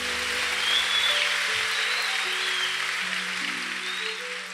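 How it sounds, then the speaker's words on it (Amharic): An audience at a youth testimony gathering claps steadily in a dense, even wash of applause, with sustained musical tones playing underneath. "አጨብጭቡለት።"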